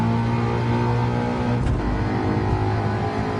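A Mustang race car engine in Gran Turismo 7 drones at high revs on a Tokyo circuit, dips briefly at a gear change, then climbs again in a loud, continuous whine.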